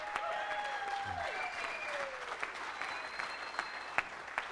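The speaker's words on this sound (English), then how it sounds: "How about a round of applause for Dana Irons" Awards ceremony crowd at the 2017 WAAC Awards giving sustained applause for Dana Irons, steady clapping across a large room with a few louder individual claps standing out near the end.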